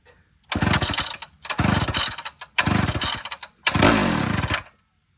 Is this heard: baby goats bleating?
no